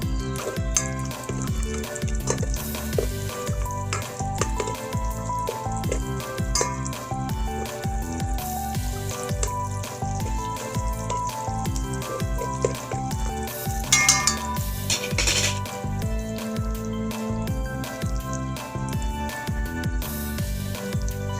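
Shrimp paste and chili boil in a pan, sizzling and bubbling continuously, with occasional stirring scrapes and a brief louder spitting burst partway through.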